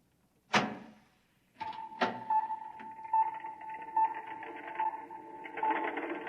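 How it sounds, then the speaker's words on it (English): Door opening as a sound effect in a 1956 science-fiction radio drama: two sharp knocks or clunks, then a steady mechanical whirring hum with faint clicks that runs for several seconds, with no talking. "Open the door."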